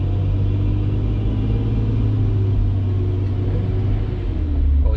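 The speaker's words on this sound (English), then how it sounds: "All you hear is lots of noise from a giant truck next to us." A giant truck drives right alongside a Tesla Model 3 on the road, a loud steady low rumble of engine and tire noise heard from inside the car, continuous and close with no talking.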